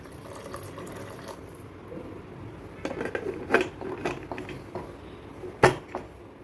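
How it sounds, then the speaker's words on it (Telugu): Water poured into a pot of washed toor dal with tomato pieces and turmeric for boiling, a steady close splashing wash with a few sharp clanks of the vessel, no voices. "తగినన్ని నీళ్లు పోసి ఉడికించుకోవాలి."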